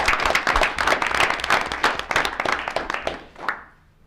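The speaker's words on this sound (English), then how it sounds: "Please join me in a round of applause." Attendees at a school district board of education meeting clapping for a retiring staff member, a dense burst of close applause that thins and fades out near the end.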